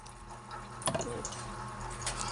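Tap water running steadily into a sink during dishwashing, a continuous close wash with a brief louder splash near the middle and no talking.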